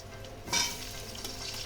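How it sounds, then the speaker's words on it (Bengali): Ridge gourd, eggplant, pumpkin and potato fry in oil with whole-spice tempering and green chillies, a soft steady sizzle with one brief louder hiss and clatter as the vegetables are stirred. "এগুলো ফোড়নের সঙ্গে আমি ভালো করে কষিয়ে নেব।"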